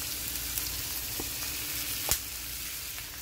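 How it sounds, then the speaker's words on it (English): Mixed vegetables and sweet pepper fry in a pan with a steady close sizzle, broken by a few light stirring scrapes and one sharp clink of utensil against the pan; no one speaks. "just gonna give it a quick stir again"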